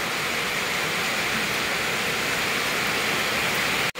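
Water runs steadily through a drain in an unfinished dirty kitchen, a continuous close rushing hiss that carries on alone until it cuts off abruptly near the end.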